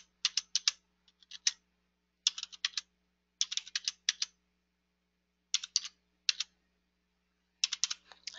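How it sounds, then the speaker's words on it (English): A computer keyboard is typed on in short bursts of crisp key clicks, several quick groups separated by brief pauses, close and clear in an otherwise quiet room. "So I'm just going to type in some stuff here."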